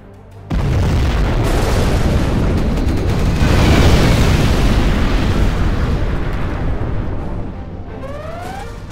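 A nuclear missile strike in the strategy game Command & Conquer Generals Zero Hour: a loud, sudden boom followed by a long, roaring explosion rumble that slowly tails off, with sweeping tones near the end.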